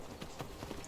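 A horse in the Skyrim video game trots along, faint rhythmic hoof clip-clops repeating at a steady pace, quiet and brief under a soft background.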